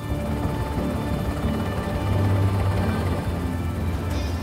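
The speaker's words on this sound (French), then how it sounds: "Le Tigre est l'un des hélicoptères les plus réactifs du monde." A Tiger attack helicopter in flight, its steady rotor and turbine roar droning loud and constant throughout without a break.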